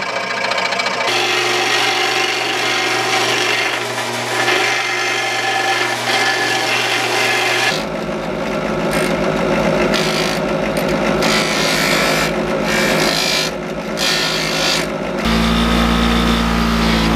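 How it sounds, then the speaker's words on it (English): A Dremel saw trims a part that will become a gasket during an FZR motorcycle fuel-tank restoration, giving a steady close-up whirring and cutting sound that shifts in pitch and drops out briefly several times. "Just so I can go over to the jigsaw, the Dremel saw, trim that off, clean it up"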